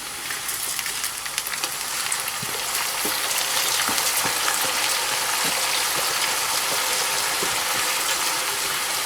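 Chicken frying in a pot for chicken pulao while rice is added, a steady dense sizzle with scattered scraping and ticking clicks, close and continuous, with no talking.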